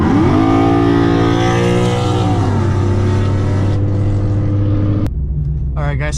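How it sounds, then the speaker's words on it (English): Car on the drive to a car meet, heard from inside, a loud steady engine drone with harmonic tones rising and then holding, with brief clatter and a short rev near the end. "right now we're currently driving over there."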